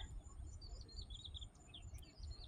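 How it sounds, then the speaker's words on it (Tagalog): Faint, high bird chirps scattered across a quiet rural outdoor background in the countryside of China near the Hong Kong border, with a low rumble of wind or distant ambience underneath. "Naririnig mo yung mga huni ng mga ibon."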